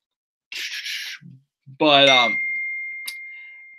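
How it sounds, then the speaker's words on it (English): A mobile phone notification chimes once, a clear bright tone that rings on and slowly fades, following a brief burst of other electronic sounds and a short spoken exclamation. "that's my phone going off"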